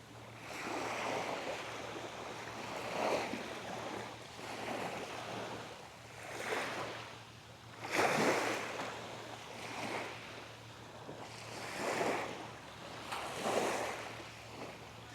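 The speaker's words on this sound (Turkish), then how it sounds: "Hafif dalgalar." Gentle sea waves wash onto the shore at Gemlik in the evening, a steady soft surf with periodic swells of louder breaking water, heard alone with no talk.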